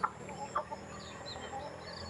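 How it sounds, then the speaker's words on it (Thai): Chickens clucking outdoors nearby, a few soft, short clucks spaced irregularly over quiet background ambience, fairly faint. "ก็ไก่มีอยู่เหลือกันเท่านี้แหละ"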